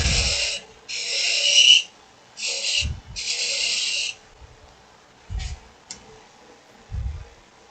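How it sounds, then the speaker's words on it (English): A woodturning tool squeals against a thin-walled wooden goblet on the lathe in several bursts of high-pitched whine, some long and some short, with low thumps in between. "That squeal means I'm getting thin."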